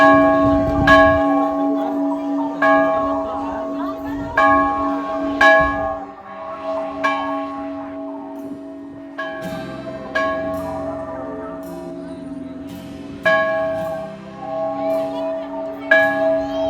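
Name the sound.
temple bells ringing loudly at Anjanadri Hanuman temple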